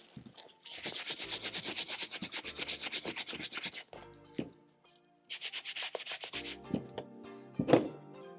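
A brush scrubs surface dirt off the footbed of Christian Dior sandals in quick rhythmic strokes, two long bursts of close, dry rubbing separated by a pause, then a few short scrubs and taps.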